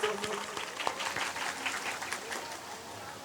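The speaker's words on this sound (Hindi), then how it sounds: "इनके लिए जरा ताली बजा दो जोरदार सभी लोग।" Audience applause at a spoken religious discourse gathering, a steady crackle of many hands clapping that starts strong and fades gently over a few seconds, with a faint voice beneath.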